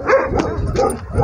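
A dog barks and whimpers in a few short, close bursts at a steady loud level, with no talk over it.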